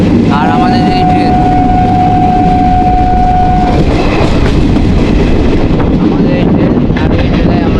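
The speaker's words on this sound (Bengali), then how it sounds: "আর আমাদের এই ট্রেন," A passenger train runs on rails between Chourigachha and Katwa, producing a loud, continuous rolling rumble heard from on board with strong wind buffeting the microphone throughout.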